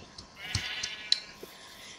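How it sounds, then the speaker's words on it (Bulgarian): Sheep in the Minecraft video game bleat in several short, thin calls spaced across a quiet scene, one slightly sharper than the rest, heard alone with no talk. "Колко много овце."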